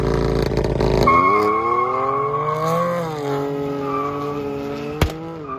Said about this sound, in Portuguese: Vamos ver a puxada, vamos ver se vai sair de traseira igual a outra vez